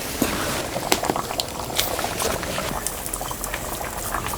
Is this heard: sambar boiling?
yes